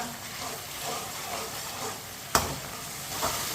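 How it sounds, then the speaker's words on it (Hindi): Chopped ginger and garlic fry over medium heat in a pan for aloo pulao, a steady close sizzle with a sharp utensil knock partway through and stirring clatter near the end. "अदरक और लहसुन को मैंने 1 मिनट के लिए पका लिया।"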